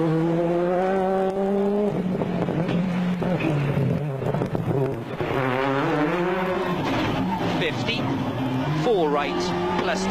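Colin McRae's Ford Focus rally car on a Monte-Carlo Rally stage in 2002, engine note rising and falling steadily through the whole stretch, loud and close, with a voice talking over it.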